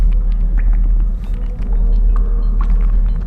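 A deep, continuous earth-shaking rumble from a giant worm moving underground rolls steadily with faint scattered rustles on top, a looping low drone from the game Toki Tori 2+.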